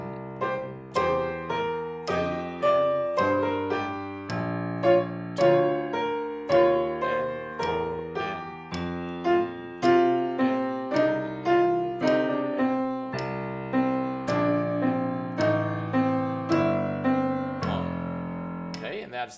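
Piano exercise played with both hands together in an intermediate lesson, a steady rhythmic run of clear notes with melody and accompaniment moving in regular beats for about twenty seconds, close and alone.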